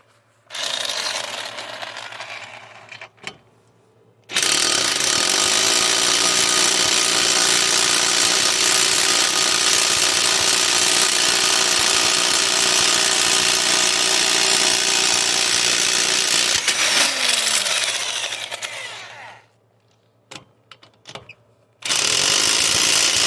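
Power tool spinning off 21 mm front lug nuts on a 2018 Nissan Versa during a brake job, a loud continuous ratcheting whir running about fifteen seconds, with short bursts before and after and no talk.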